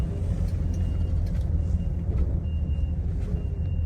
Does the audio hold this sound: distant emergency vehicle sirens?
no